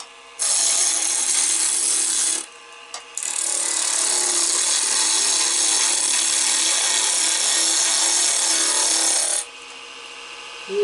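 A woodturning gouge bites into a banksia pod spinning on a lathe, giving a loud, harsh, continuous tearing rasp that briefly cuts out and resumes before stopping, close by with no voices.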